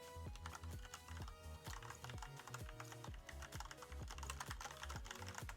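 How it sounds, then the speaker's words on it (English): Rapid typing on a computer keyboard, a dense run of clicky keystrokes in an uneven rhythm, close and steady over a busy low background with no talking. "Sorry, typing something in the Discord"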